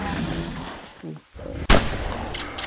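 A shotgun fires in the dinosaur-hunting game The Hunter: Primal, one sharp, loud blast cutting through continuous rumbling background noise and followed by a brief decaying tail.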